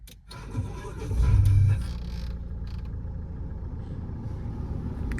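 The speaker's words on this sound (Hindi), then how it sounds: "कोई आवाज़ भी आपको आई है ना, इस AC के पंखे की आई है" Inside a Mahindra XUV500, an engine start surges briefly, then the AC blower fan settles into a steady, even rushing hum that continues under the idling engine. No one speaks.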